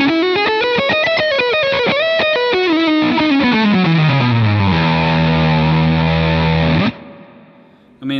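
Heavily distorted electric guitar plays loud, sustained layered melodic lines and descending phrases, ringing out before stopping abruptly near the end.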